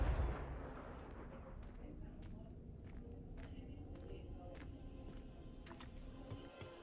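A Confringo fire spell blasts in the Hogwarts Legacy video game, a sharp explosive burst at the start followed by scattered crackling impacts and a low rumbling bed over several seconds.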